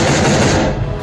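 Machine gun fire from a BTR-4 armored vehicle in combat roars as a loud, dense, continuous burst, harsh and close, filling the short moment without pause.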